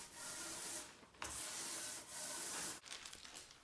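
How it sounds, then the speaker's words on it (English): Sandpaper of 240 grit rubbing back and forth over a black-painted glass-fronted cabinet between coats, a steady close scratchy hiss in long strokes with brief pauses between passes. "In between each layer I gave it a quick sand using a 240 grit sanding paper to knock down all the little bumps."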